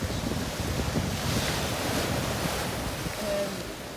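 Ocean surf washes steadily onto the beach at Hotel Xcaret, a continuous broad roar of waves mixed with strong wind buffeting the microphone, with no clear voices.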